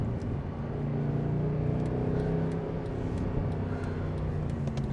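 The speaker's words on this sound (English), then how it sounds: "The noises that this engine makes" Mercedes SLS AMG Black Series engine droning steadily from inside the car while driving, a deep continuous rumble with no speech over it.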